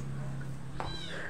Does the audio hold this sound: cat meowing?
yes